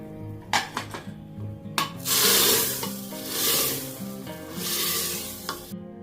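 Tadka tempering sizzles and spits in a pan of dal, with bursts of frying hiss, stirring scrapes and utensil knocks rising and falling across the clip, no voices.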